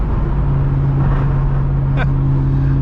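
A 2001 SVT Cobra with 4.10 gears pulls hard under full throttle, a loud steady engine drone heard from inside the car, with one brief higher whine partway through.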